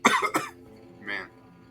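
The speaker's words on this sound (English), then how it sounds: "passing my cough to the internet" A person coughs twice in quick succession, close to the microphone during a Terraria livestream, followed by a softer breathy sound.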